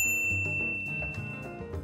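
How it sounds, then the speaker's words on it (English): A short notification bell ding rings out over light background music, bright and clear at the start of a travel food segment about Paris. "ring the bell to be notified about our latest videos"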